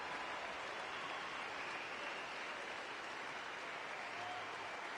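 A crowd applauds in the Natlan parade of Genshin Impact, a steady even wash of clapping that holds for the whole stretch at a moderate, distant level, with no talk over it.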